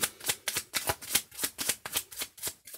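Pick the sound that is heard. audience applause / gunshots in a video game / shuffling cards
shuffling cards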